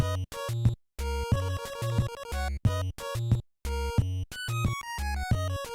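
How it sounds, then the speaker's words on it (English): A theme from the video game Earthbound, a loud, bright chiptune melody with a steady pulsing bass that keeps cutting out in brief dropouts, like music on an old broken radio. "In Earthbound, it sounds like this song is playing on an old broken radio"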